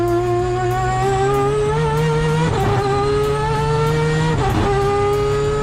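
A three-rotor Mazda RX-7 engine capable of 10,000 RPM revs hard and close, its buzzy harmonic whine climbing and shifting through gear changes at two points, loud and continuous with no voices.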